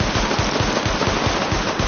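Rapid automatic gunfire rattles in a continuous burst as a weapon is fired at highlighted targets during a weapon test in the video game Tom Clancy's The Division, loud and close with no speech.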